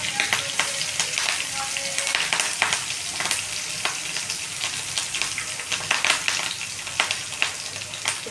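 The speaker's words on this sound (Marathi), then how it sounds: "आता मी घेतली मोहरी कडकवून छान. आता आपण टाकणार आहे कढीपत्ता टाकून झाल्यानंतर मिरची," Curry leaves and green chillies hit hot oil with crackled mustard seeds, bursting into a loud close sizzle with sharp pops and spatters that rise and fall over several seconds.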